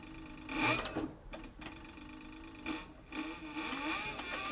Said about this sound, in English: I'm sewing without a guide.